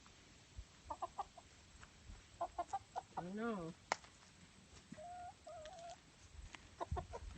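Pet chickens cluck in short, repeated bursts during bath time, with one longer rising squawk in the middle, a person briefly speaks, and a quiet room sits behind.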